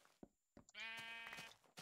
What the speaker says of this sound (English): Hello, sheep. How's it going?